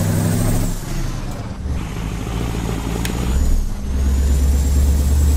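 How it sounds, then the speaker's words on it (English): A DAF 214 truck engine in Euro Truck Simulator 2 drones steadily and fairly loud throughout, a deep continuous rumble with slight swells in pitch as it runs, alone with no talk. "Let us know if the engine sounds a bit loud, but should be not too bad."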